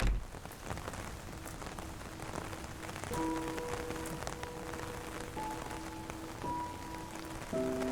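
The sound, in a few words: rain falling, from a video game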